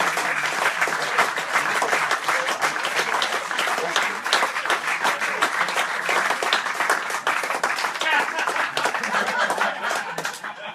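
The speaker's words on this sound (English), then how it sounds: "Give them a big clap." A club audience gives rugby players a big, sustained round of applause at a meet-the-players event, dense close clapping throughout with some laughter and voices mixed in.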